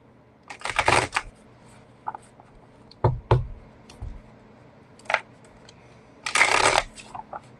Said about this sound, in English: Give these a couple of quick shuffles